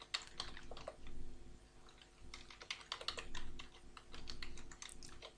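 Quick, light keystrokes on a computer keyboard come in uneven bursts of clicky taps with short pauses, close and fairly quiet.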